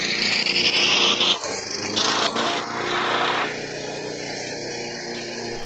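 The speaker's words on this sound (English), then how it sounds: "their lawn mowing crew ran over my rug" Lawn mower engine droning loudly close by while it runs over a rug lying on pavement, a steady rough roar with a brief dip and a harsher grinding stretch before settling.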